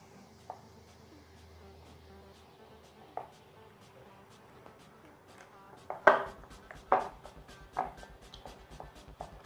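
Grated mozzarella, 200 grams, is stirred into cheese bread dough (pão de queijo) in a bowl. Soft scrapes build into a run of sharp, rhythmic utensil knocks and clatters near the end.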